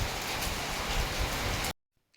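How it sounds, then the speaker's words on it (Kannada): Heavy rain pours down steadily as a dense, loud hiss for almost two seconds, then cuts off abruptly into near silence. "ಸಿಕ್ಕಾಪಟ್ಟೆ ಮಳೆ ಬರ್ತಾಯಿದೆ"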